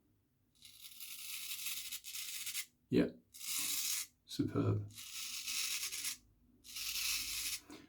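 Ducal 14 straight razor shaving a face against the grain, close rasping scrapes in several bursts with short pauses, and a voice speaking briefly between strokes.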